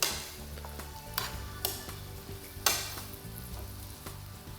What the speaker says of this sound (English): we're going to add them into the pan with our vegetables and our sauce. And again, we just want to stir those in.